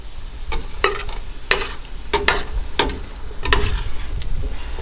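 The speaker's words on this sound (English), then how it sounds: "You want to stir it up, break up all that fond on the bottom of the pot" A spoon scraping the bottom of a pot to lift the browned fond, about a dozen sharp, rhythmic scrapes and knocks over a low simmering sizzle, close and fairly loud, without talk.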